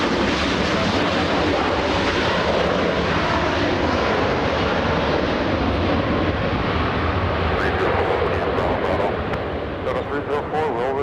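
Jet airplane taking off from runway 24 left at LAX airport, a loud sustained roaring rumble that holds steady and then begins to ease, with faint radio chatter toward the end.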